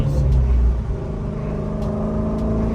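Ford Mustang GT350 V8 rumbles steadily at idle close by, with a brief louder swell at the start.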